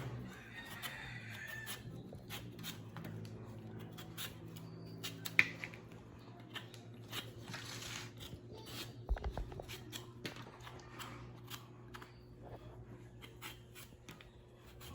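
Vegetable skin is peeled and scraped in quick, repeated dry rasping strokes, close and fairly quiet, over a faint steady background hum with an occasional knock.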